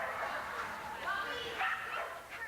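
Dogs at the Carolina Piedmont Agility Competition in Colfax yip and bark amid a noisy crowd, with the barks mixed into busy background chatter and talk.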